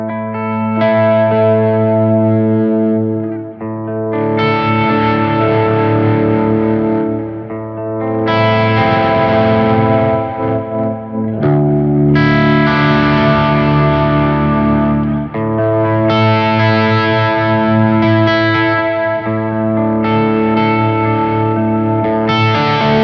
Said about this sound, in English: starting with a clean boost and effortlessly shifting to a heavy overdrive